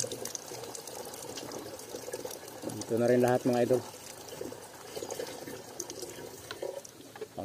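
Water drawn from a provincial well splashes and pours in one brief, louder burst midway, over a steady outdoor background, while someone talks throughout.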